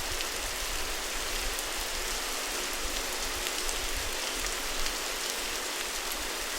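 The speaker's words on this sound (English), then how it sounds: "it's playing the rain file" A rain sound file played from an ambient sound app, a steady, even hiss of falling rain with dense fine patter, unchanging throughout and without voices.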